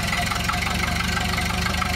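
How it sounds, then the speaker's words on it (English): A Ford Model A engine idles steadily after starting, a close, constant rough chug with a dense mechanical rattle throughout. "start the engine."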